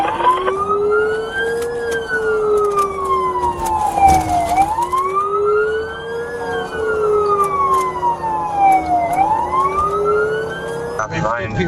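A police car siren wails, sweeping up and down in long slow cycles, loud and close, over road noise, ending in a brief sharper burst.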